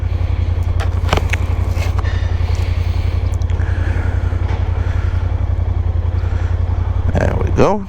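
A Kymco AK550 Premium maxi scooter rides through city streets, its engine a steady, close, low throbbing drone that holds throughout, with a brief voice near the end.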